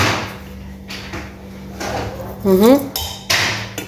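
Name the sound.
lid being put on a cooking pot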